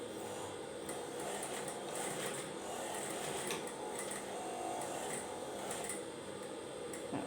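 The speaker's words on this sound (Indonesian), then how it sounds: "Kita jahit sedikit." A sewing machine stitching a seam on a sarong, running in a steady mechanical whir with rapid needle ticking for several seconds and no talk.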